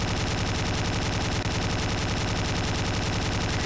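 Dense, continuous automatic gunfire pours out at a steady fast rate without a break, the player firing on the boss in the Slendytubbies game.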